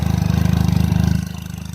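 A Benelli TRK 502X adventure motorcycle idles through its stock exhaust, a close, steady low pulsing thrum with even rhythmic beats that ease slightly toward the end.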